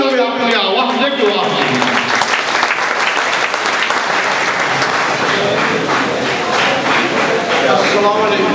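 Loud, sustained applause from a large audience at a school silver jubilee poetry gathering, dense clapping filling the whole stretch evenly, with a voice heard early on.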